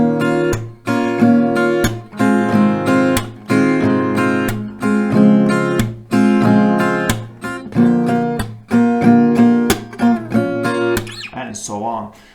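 Acoustic guitar strums a chord progression for a song, two strums on each chord, in a steady rhythm of bright, full, close strums with ringing sustain and no other sounds.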